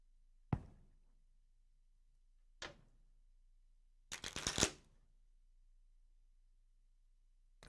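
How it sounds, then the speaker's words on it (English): A deck of playing cards is shuffled at a game table: two sharp, separate clacks as the deck is handled, then a quick riffling burst of about half a second, close and clear with no talk. "We're just gonna watch Colleen shuffle the cards while we wait for another call."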